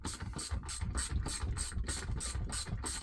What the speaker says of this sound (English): Alright, so the handle screw has to come off. It's a Torx.